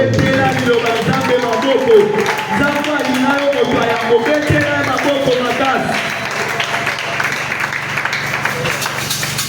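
A church congregation applauds throughout, with dense clapping under voices that call out and sing along, steady and loud from start to finish.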